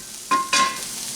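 Corned beef pasty filling stirred in a pan, two quick spoon scrapes with a metallic ring over a faint background sizzle, brief and close.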